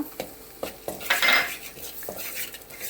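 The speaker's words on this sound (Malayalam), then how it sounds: "കാശ്മീരിയുടെ മുളക് പൊടി ചെറുതായിട്ട് അത് ഇളക്കുക" Kashmiri chili powder being stirred in a pan for potato curry, with a series of distinct metal spoon taps and scrapes against the pan over a faint sizzle, close and with no voices.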